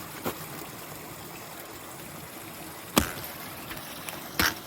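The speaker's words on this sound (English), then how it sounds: "If you listen, you can hear the water" Steady trickling water murmurs beneath rocks on the Appalachian Trail, a continuous faint flow broken by a few sharp knocks and clicks nearby.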